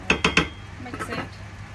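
A spoon scrapes and clinks three times in quick succession against a cooking pot while goat meat curry is mixed with tomatoes, followed by softer stirring sounds.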